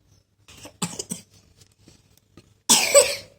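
A child coughs, first in a few soft, broken bursts, then in one louder, harsher cough close to the microphone, with quiet pauses between.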